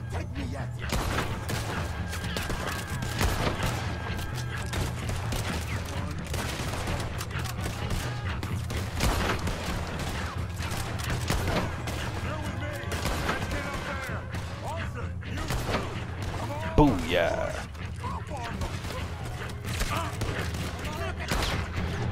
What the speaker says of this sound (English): Shots like crazy.